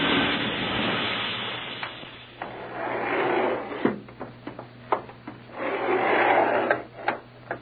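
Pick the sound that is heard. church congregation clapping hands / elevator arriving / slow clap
elevator arriving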